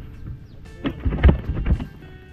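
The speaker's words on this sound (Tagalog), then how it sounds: "Umuulan man." Rain falling with thunder, a low rumbling roll that builds over a couple of seconds in several uneven surges, fairly close and moderately loud, with no voices over it.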